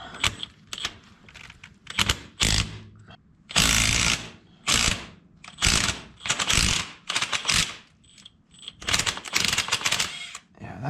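Ratchet with a socket working a bolt on a Soviet tractor, a series of irregular clicking and clanking bursts separated by short quiet gaps, fairly close.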